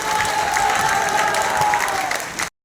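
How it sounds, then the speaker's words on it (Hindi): Loud applause from a crowd of party workers fills a meeting hall, a steady dense clapping that holds for a couple of seconds and then stops abruptly. "एक बार जोरदार ताली बजाने का काम आप लोग करें"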